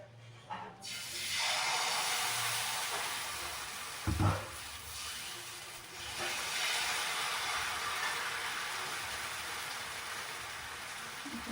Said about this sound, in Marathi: तर आता तेल तापलंय व्यवस्थित, आपण त्याच्यावर आता हे पीठ घालूया.